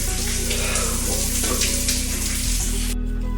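Shower water runs steadily and fairly close by during car camping, a continuous splashing hiss with a low rumble beneath it that shifts slightly near the end.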